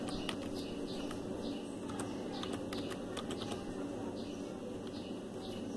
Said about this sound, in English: Now you have to type TEC-X.